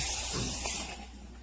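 Steam wand of a MiiCoffee Apex brushed stainless steel espresso machine spraying water instead of steady steam, a close hissing spray that fades after about a second.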